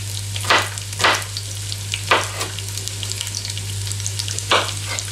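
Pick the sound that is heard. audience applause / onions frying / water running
onions frying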